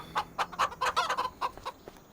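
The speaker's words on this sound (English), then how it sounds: "We have chickens now." Chickens cluck close by, a quick run of short, rhythmic clucks and chattering calls with no talking.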